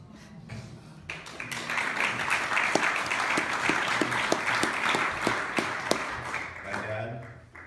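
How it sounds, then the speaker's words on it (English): An audience claps at an event, a steady patter of many hands building and then tapering off over several seconds, with some scattered louder claps and a voice speaking near the end. "Just hold your applause to that, please."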